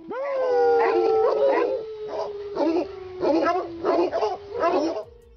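Several otterhounds bay and howl together, loud and close: long drawn-out howls run beneath a rhythmic series of baying yelps, with no talk.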